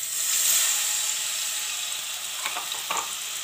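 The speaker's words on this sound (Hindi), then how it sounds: "अब ऑयल को थोड़ा सा गर्म होने के लिए रखते हैं और उसमें डालते हैं अदरक और लहसुन का" Ginger-garlic paste sizzles in hot oil in a kadai, a dense continuous hiss heard up close, with a few faint clinks and scrapes of stirring near the end.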